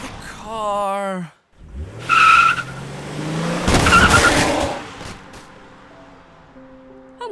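Car skidding with sharp tire squeal in a cartoon-style scene, screeching bursts following a voice, then fading into a lower rumble.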